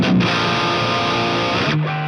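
Mercuriall Euphoria amp plugin with its structure switch on low gain, giving a sustained, moderately driven electric guitar chord that rings steadily for about two seconds before a new note enters, with no talking.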